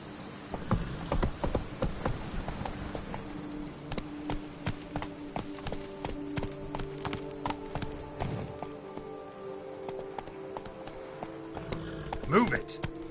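The horse Roach trots in a video game, a steady run of close clip-clopping hoofbeats lasting over ten seconds, mixed with game ambience and voices talking over it.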